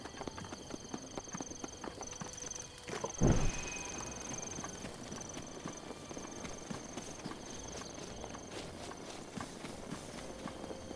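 Horse hooves clip-clop steadily on hard ground in a video game, a continuous rhythmic trot heard fairly close with a louder thump partway through and background game noise.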